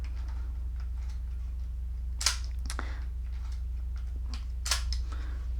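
Film is wound in a Zorki 1 rangefinder camera, giving faint small ratcheting clicks and two sharper ticks of the winding knob over a steady background hum.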